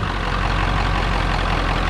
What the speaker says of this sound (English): let's hear this thing start up